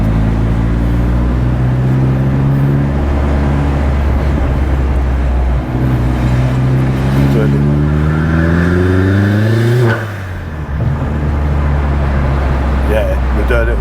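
Turbocharged car engine pulls hard in second gear, pitch climbing steadily to a peak around ten seconds before easing off, loud and close from inside the cabin with voices talking over it.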